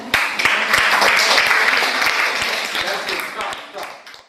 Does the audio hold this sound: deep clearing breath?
no